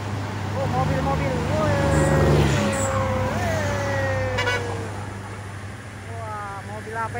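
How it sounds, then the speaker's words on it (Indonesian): Several race cars overtake a truck on a road, engines revving and passing close under a steady traffic rumble, with a siren-like wail rising and falling and people talking over it. "Mobil balap semua."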